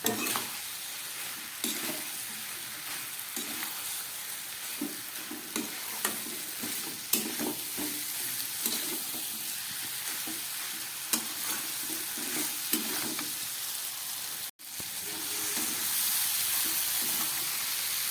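Potatoes and beans are stirred and fried in a pan, with a steady sizzle and hiss under repeated scraping stirs that continue nearly nonstop, one brief pause near the end.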